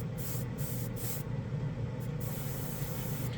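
An airbrush sprays chrome paint in short, hissing bursts, close and steady, with the hiss starting and stopping in several quick pulses over a low background hum.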